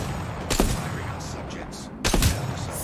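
Video game gunshots from a Longbow with a Skull Piercer attachment: two loud, sharp, close reports about a second and a half apart, each with a short rattling tail, over a constant background hum of game sound.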